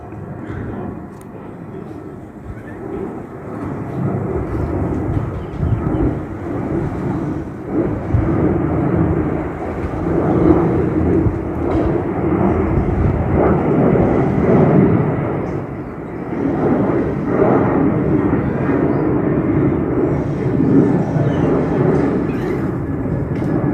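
A Virgin Australia Boeing 737-800 roars overhead on takeoff from Sydney Airport, heard from the suburb of Earlwood as a loud, sustained low jet rumble that swells and holds for over twenty seconds.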